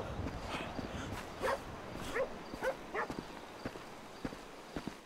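A dog in the video game Grand Theft Auto V gives a few short, sharp barks and yips over a busy game soundscape, with scattered taps and footsteps.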